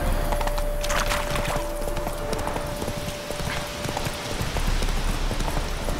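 Hooves of Roach, a horse in The Witcher 3, clip-clop at a steady galloping rhythm throughout, loud and continuous over a bed of game ambience, with a faint high tone held beneath for several seconds.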